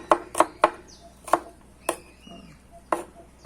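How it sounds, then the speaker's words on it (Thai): A knife chops shallots on a cutting board while making a Thai herbal dipping sauce, giving about seven sharp, close knocks in an uneven rhythm with short pauses between them and no talking. "หั่นหัวหอม หั่นอย่างนี้เลย ซอยซอยหัวหอมอ่ะ"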